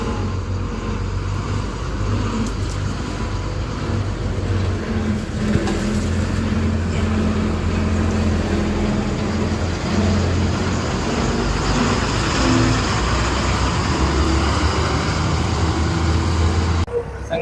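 A tractor drives along a dirt road lined with sheesham trees near a power plant, its engine a continuous low rumble heard steadily throughout, close and fairly loud.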